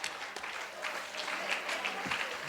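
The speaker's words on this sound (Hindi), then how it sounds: "आपकी तालियों की गड़गड़ाहट के साथ" Steady applause from a seated audience at an award ceremony during a women's committee annual meet fills the room in a continuous, even wash of clapping, moderately distant, with a faint murmur of voices beneath.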